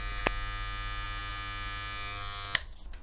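Daylink RD-533 electric hair clippers buzz steadily with a constant high hum, close up, with a click at the start and another click near the end.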